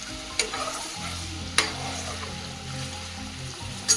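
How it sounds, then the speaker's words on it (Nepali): Meat frying in a pan, a steady close sizzle with a low bubbling hum and a few sharp scrapes of stirring, no voices. "अहिले चाहिँ म गराउँदैछु अब मासु। त्यसलाई भुटिरहेको छु म।"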